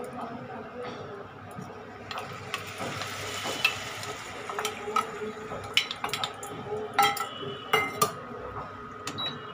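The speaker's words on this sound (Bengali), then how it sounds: "এবার আমি এই পেঁয়াজটাও দিয়ে দিচ্ছি।" Onion goes into a cooking pan in a home kitchen for a dhokar dalna curry, bringing light metallic clinks and scraping of utensil against pan over a low background hiss, with sharper taps toward the end.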